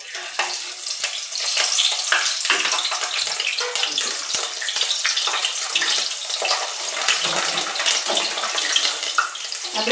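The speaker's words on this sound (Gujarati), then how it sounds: "આપણે તેલ આવી ગયું છે. આપણે કટ કરેલા મરચાને તળી લેશું." Cut green chillies frying in hot oil, a dense, steady crackling sizzle that fills the whole stretch, loud and close, with no voices.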